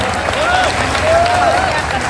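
Crowd clapping at a youth victory thanksgiving event, a dense steady patter of many hands with a voice carrying briefly over it.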